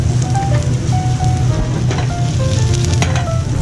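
Olive oil sizzles hard in a pan with butternut squash for a risotto, a loud, steady crackling fry with scattered pops and no talking.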